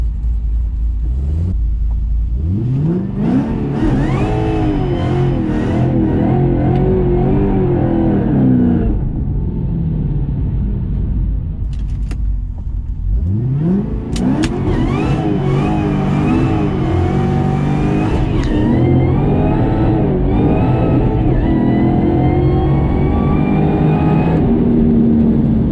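A Ford Mustang GT500 with a drag pack, set up for no-prep racing, revs hard toward 6500 RPM in two long rising pulls, its engine note climbing and holding loud and close, with tire-spinning roar and no talk.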